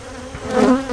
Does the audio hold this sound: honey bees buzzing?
yes